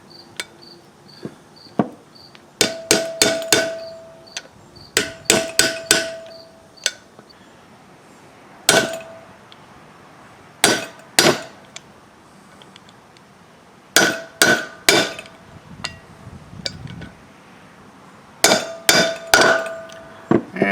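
A hammer taps a bearing driver to seat a travel trailer wheel bearing race, with sharp metallic strikes arriving in quick bursts of three or four, close and loud, separated by quiet gaps with a faint background chirp.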